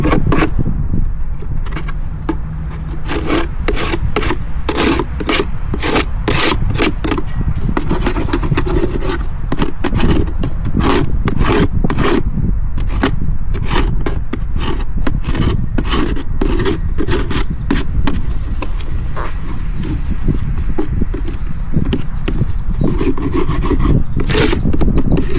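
A hive tool scrapes round the rim of a wooden beehive box, giving loud, close, continuous rough rasping in rapid repeated strokes over a dense steady background.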